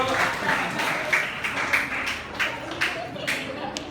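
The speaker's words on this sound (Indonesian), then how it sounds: "Tepuk tangannya untuk Pasir Jambu." A student audience at a university group presentation in Bogor claps briefly for a team, the applause moderate and scattered, with chatter and speech overlapping it.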